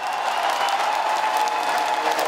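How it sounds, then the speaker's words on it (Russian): An arena crowd at an ice hockey tournament applauds the goalkeeper with steady, dense clapping that fills the whole short moment, without a break. "Здесь уже аплодисменты Николаю Малькову."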